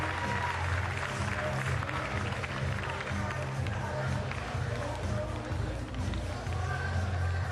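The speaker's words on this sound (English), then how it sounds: "he'll get a standing ovation from the Liberty crowd, his first Liberty start" A Liberty crowd gives a standing ovation at a college baseball game against Virginia Tech, with steady sustained applause and cheering, distant and broad, under faint talk.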